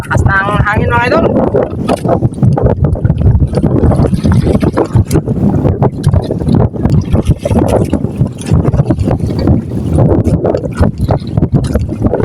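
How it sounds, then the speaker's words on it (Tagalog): Strong wind roars steadily across a fishing boat at sea, a continuous loud rumble buffeting the microphone for the whole stretch, with a brief voice near the start. "Lakas ng hangin mga idol."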